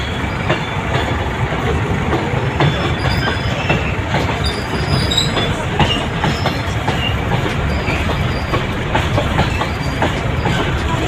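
A freight train rumbles past on the railway, loud and continuous, with steady clickety-clack of wheels and occasional high squeals from the rails, and no voices.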